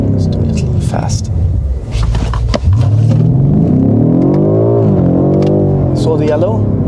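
BMW M5 Competition engine revving up through the gears on a slow country road, a loud rising drone heard from the cabin, with someone talking over it throughout.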